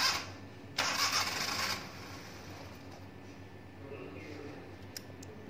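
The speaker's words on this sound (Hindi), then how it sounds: "तो अभी आप देख रहे हैं जैसे इसको हटा रहे हैं तो कार स्टार्ट हो रही है थोड़ी बहुत" A Maruti 800 car engine with its MAP sensor removed cranks with a short, harsh burst, then settles into a weak, uneven idle, heard up close.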